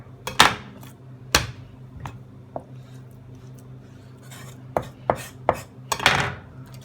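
A knife chops down through skewered chicken on a cutting board, trimming the ends: a handful of sharp, separate cuts at an uneven pace, close up, with no voices.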